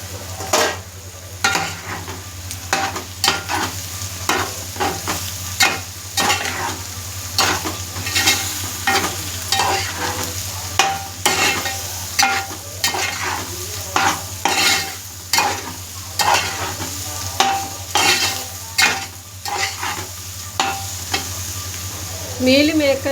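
Meal maker soya chunks and ivy gourd fry with seasoning and curry leaves in a pan, a continuous loud sizzle broken by regular scraping stir strokes throughout, close up with no talking.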